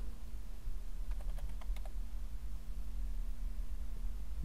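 A few quick keystrokes tap on a computer keyboard in a short burst, faint and close over a steady electrical hum and background hiss.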